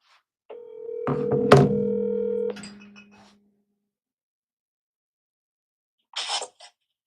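A telephone gives off a steady tone for about two seconds, with a brief dialing burst layered in, then silence before a short clicky noise near the end.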